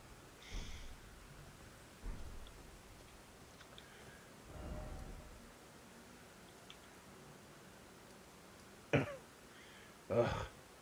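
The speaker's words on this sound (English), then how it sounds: "Stop coughing." A person coughing and clearing their throat during an Elden Ring session, a handful of faint, scattered bursts spread over quiet room tone.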